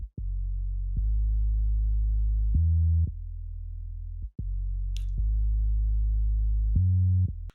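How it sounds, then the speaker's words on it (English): A deep, clean synth bass in an Afrobeat production, processed with EQ, plays sustained low notes in a slow pattern, with brief gaps and a few higher tones layered on some notes. "And I added this bass."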